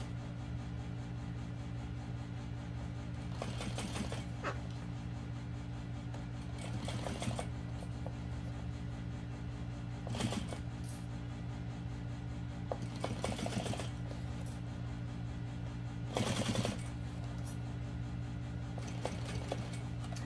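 A sewing machine stitches vinyl and waterproof canvas for a small parachute knapsack. It makes a steady mechanical whir broken by several short, louder bursts of rapid stitching at irregular intervals, with no voices over it.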